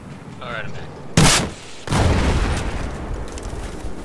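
A loud explosion in Battlefield 4 on the Siege of Shanghai map bursts out abruptly, and a second heavy blast follows less than a second later. Rumbling battle noise carries on under a voice.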